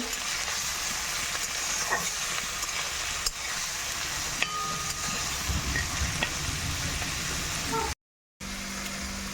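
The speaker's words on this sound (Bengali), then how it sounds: "নুন আর হলুদ দিয়ে গুগলিগুলোকে একটু ভেজে নেব" Apple snails fry with turmeric and salt in a hot pan, a steady close sizzle with occasional stirring scrapes, continuous and moderately loud.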